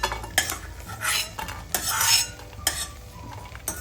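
Grated dried coconut being dry-roasted and stirred in a metal pan with a spoon, giving repeated close scraping strokes and light clinks against the pan, with no talk.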